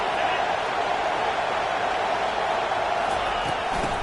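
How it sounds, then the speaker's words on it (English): Stadium crowd in the NCAA 25 college football video game, a dense continuous roar of cheering that holds loud and steady throughout. "this crowd is turning it up a notch"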